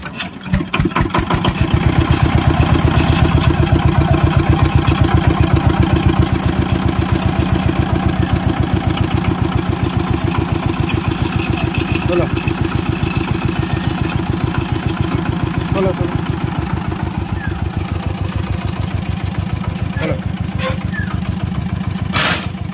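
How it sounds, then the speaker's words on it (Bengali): An R190 single-cylinder diesel engine idles steadily just after starting, a loud, continuous rhythmic chugging thump that holds even throughout, with faint background activity. "এবার দেখি ইঞ্জিনটা ঘুরিয়ে কি পরিস্থিতি দাঁড়ায়"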